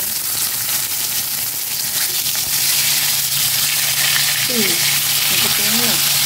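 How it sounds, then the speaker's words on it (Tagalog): Chicken embutido frying in a pan, giving a steady, close sizzle throughout, with a voice briefly heard over the frying near the end. "Ngayon, prito ko muna itong embutido."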